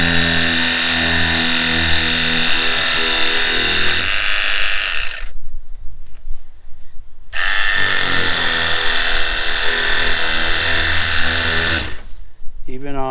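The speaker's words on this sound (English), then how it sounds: "The power washer that I have is not strong enough." A power washer sprays in two long, steady hissing bursts separated by a brief pause, loud and close up.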